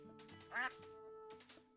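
Ducks quacking in the cozy shop simulator game Teddy's Haven, one short nasal quack over soft background game music, with no talking.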